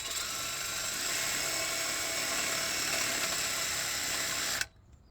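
A power drill fitted with a cleaning attachment whirs at high speed against a 28mm copper pipe, giving a steady whining grind for several seconds before cutting off sharply.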